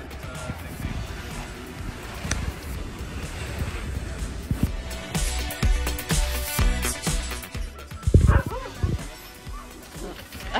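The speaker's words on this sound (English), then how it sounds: "There's so many dogs here." Many sled huskies at a husky cafe in Svalbard, barking and yipping in a busy, overlapping chorus both near and farther off, with people talking among them and a loud burst of barks toward the end.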